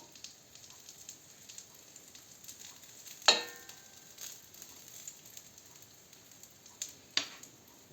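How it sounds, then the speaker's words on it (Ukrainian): Soft, steady sizzling of dough with greens frying in a pan, with a few sharper crackles and pops standing out, quiet and close. "І смажимо."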